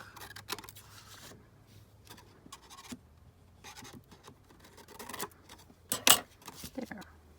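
Scissors snipping through stencilled paper for a one-page journal, a few short crisp cuts and rustles spread across the moment, close and fairly quiet, with a sharp snip near the end.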